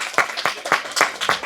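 A few people clap in a village gathering to congratulate someone: five sharp, evenly spaced claps about a quarter second apart, close and clear, with no talking.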